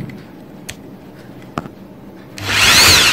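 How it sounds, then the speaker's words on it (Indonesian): A power drill boring a hole in a Dell Vostro laptop hinge, a few quiet taps and clicks, then a short, close, high whining burst of drilling at the end. "sekarang kita lubangi di sini"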